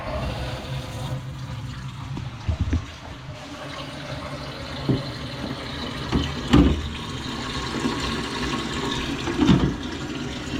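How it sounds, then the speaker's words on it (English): Toilet cistern filling with cold water in a barn bathroom, a steady rushing and hissing inflow with a few louder gurgling surges, close by, and no one speaking. "Get this cold on to this toilet."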